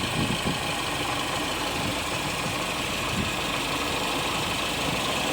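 A 1979 Porsche 924 engine idling steadily, close and loud, with a constant low rumble and hum and no talking.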